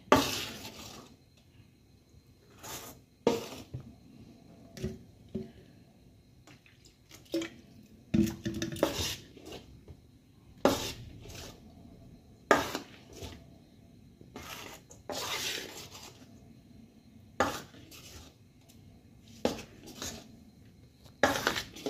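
Water added bit by bit to chakli batter being stirred smooth in a metal bowl, with repeated sharp clinks of spoon against the bowl and soft wet dripping between them, close and unhurried.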